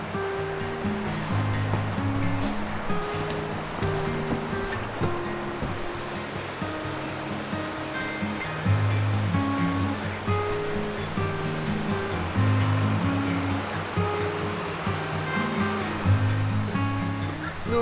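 A mountain stream at a riverside campsite flows steadily with continuous rushing water, with a gentle melodic tune playing over it the whole time.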